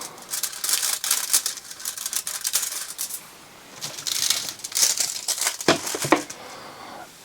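Aluminium foil is cut with scissors during a CD player repair, giving close, crisp crinkling and snipping in uneven bursts with brief pauses and a few sharper clicks, with no talking.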